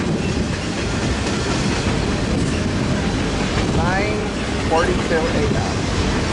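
Westbound manifest freight train rolls by at Daggett, a loud continuous rumble with clickety-clack and brief wheel squeals, while a person talks briefly over it.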